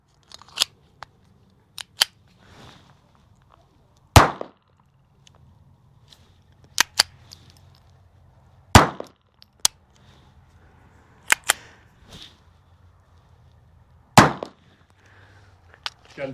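A Ruger Mark IV pistol fires non-subsonic rounds without a silencer: three sharp, loud cracks spaced several seconds apart, with lighter mechanical clicks and snaps between them in an otherwise quiet setting.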